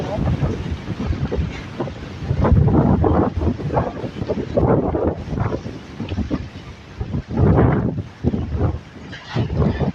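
Strong wind gusting across an open rural farm area during a rainstorm, roaring loudly and buffeting the microphone in surges throughout, with a voice faintly mixed in.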